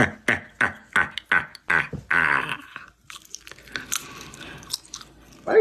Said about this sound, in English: Why are you chewing on that gum like that?